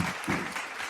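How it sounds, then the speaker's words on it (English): Audience applause at a live science-communication final, a short burst of clapping from a crowd. "Huge round of applause."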